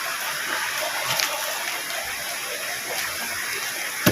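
Strong flood water rushing through farmland after heavy rain, a steady loud roaring gush that carries on without a break and has no voices over it.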